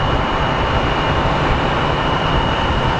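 An Airbus aircraft at Sky Harbor airport gives off a loud, steady broadband engine roar with a constant high whine, continuous and close with no talking.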